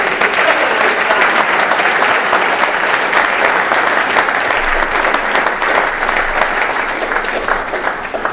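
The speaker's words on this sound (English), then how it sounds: "once again, a huge round of applause to Katie Sterling" Conference audience clapping after a session on the anti-doping code, a loud, dense and sustained round of applause from a large crowd that stays strong throughout and tapers slightly at the end.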